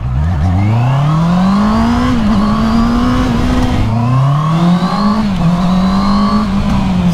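A Honda CB650R motorcycle engine with stock exhaust revs loudly and steadily through a tunnel, its pitch climbing twice in long sweeps, with a full, continuous echoing roar throughout.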